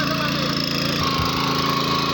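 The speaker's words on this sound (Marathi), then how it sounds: "जाग्यावर सुद्धा मशीन ओळतं मित्रांनो हे जागेवर फिरतं" A petrol engine power weeder used for tilling in a cotton field runs with a loud, steady engine drone close by.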